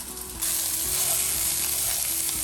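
Eggplant sizzling in a nearly oil-free pan as onions and carrots go in. A quieter crackle jumps to a loud, steady sizzle, with faint scraping and clicking underneath.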